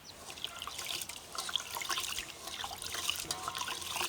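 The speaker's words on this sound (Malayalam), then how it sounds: "അപ്പോൾ ഈ അരിയും ഉലുവയും ഉഴുന്നും കൂടി നല്ല പോലെ ഒന്ന് കഴുകാം കേട്ടോ." Rice, fenugreek and urad dal being washed in water for dosa batter, with trickling, sloshing water and light rubbing of grains heard close and fairly quiet.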